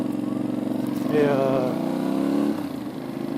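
An Italian A2-class motorcycle engine revs briefly, its buzzing note rising and holding for a second or so while a rider speaks over it.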